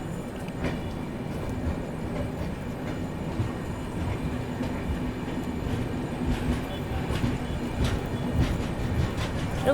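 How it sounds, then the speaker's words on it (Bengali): A long-distance train on the Dwarka to Mumbai route leaving Bhatia railway station, heard from on board: a continuous low rumble with rhythmic wheel clatter and faint clicks throughout, close and steady. "ছেড়ে দিল ভাটিয়া রেলওয়ে স্টেশন থেকে"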